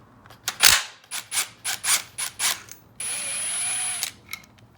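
Ratchet wrench driving a T40 Torx bit on a motor mount bolt of a Yamaha YFZ450 engine, heard as several quick, loud bursts of clicking, then a steady whirring spin, then a few more short clicks.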